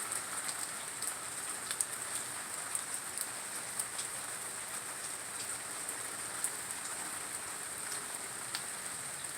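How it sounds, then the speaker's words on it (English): Steady rain falls under a garden pergola, a dense continuous patter with scattered sharper drips striking nearby surfaces, even and unbroken throughout with no voices. "It's been raining all day."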